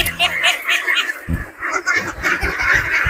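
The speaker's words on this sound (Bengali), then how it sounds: "দর্শক এই যে দেখতে পাচ্ছেন যে হাঁসগুলো" Farm ducks fed on snails, shells and crabs quack in a flock of a couple hundred, repeated nasal calls close by mixed with farm background noise.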